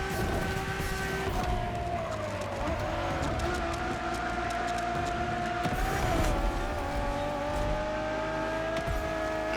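Ferrari Enzo supercar in The Crew Motorfest, driving in Hawaii, with a steady engine drone and shifting pitch that rises and settles through gear changes, heard continuously at moderate level.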